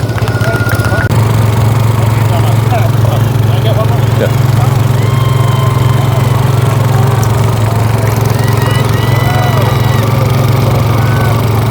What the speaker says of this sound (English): the garden tractor pull still going on behind us